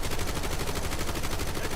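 Rapid, continuous gunfire in a video game rattles loud and close with no break, a dense automatic burst with no voices over it.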